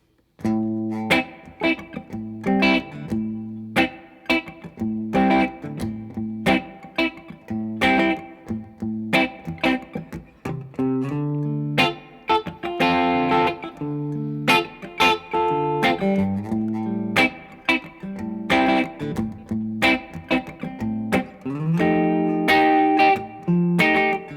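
Electric guitar strums a steady 12-bar blues chord progression, chords changing in a loping rhythm, clear and close with no voices.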